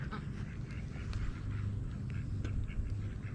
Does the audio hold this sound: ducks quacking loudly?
yes